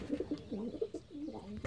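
Pigeons, including a roller and a giant-breed crossbreed, coo softly nearby in a series of low, wavering, throaty calls running one into the next.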